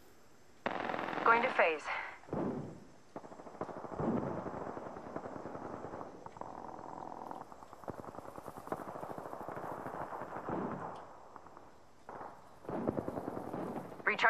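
Gunfire in the video game Apex Legends: bursts of shots run through most of the stretch with brief gaps, under a player's short spoken remark and steady game background.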